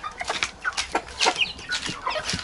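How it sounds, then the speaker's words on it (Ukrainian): A young rooster clucks in a farmyard with a series of short, close calls in quick succession, some overlapping with other fowl sounds. "Це півник."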